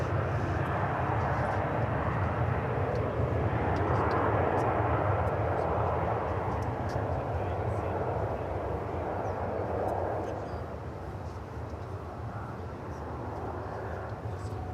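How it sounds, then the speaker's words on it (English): An American Airlines airliner in Medal of Honor livery departs, a broad steady jet roar holding loud for about ten seconds before easing slightly, with faint talk underneath. "There's the American Airlines Medal of Honor livery, which we saw coming from Albuquerque earlier, and now it's headed back there."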